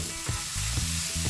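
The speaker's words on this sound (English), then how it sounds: "Now I can flip the wok, so we'll have wok hay." Hong Kong style soy sauce noodles with bean sprouts and no meat sizzle loudly in a wok, with a continuous hiss broken by a few rhythmic scraping tosses as the pan is stirred and flipped.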